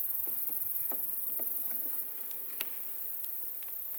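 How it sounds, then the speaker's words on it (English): Honey bees hum steadily around an open beehive, with a close, continuous buzz and occasional louder passes of individual bees near the listener, and no talking. "there's only bees like right here"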